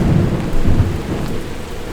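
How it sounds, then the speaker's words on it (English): Thunderstorm during a winter night outdoors without a tent: low, rolling thunder rumbles over steady rain, a continuous loud wash of storm noise with no voices. "Sounds like a thunderstorm coming."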